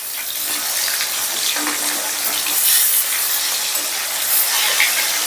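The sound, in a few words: katla fish frying in oil in a pan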